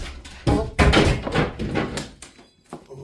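A door bumps and rattles against the wing of a newly raised flag, several close thuds and knocks in quick succession, fairly loud, with no talk.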